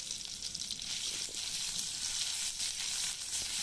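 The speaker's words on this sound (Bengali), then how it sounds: "মশলাটা ভালো করে ভেজে নেব।" Ginger-garlic paste with cumin, green chilli and spices frying in hot oil for egg curry, a steady close hiss and crackle of sizzling that holds evenly throughout with no voices.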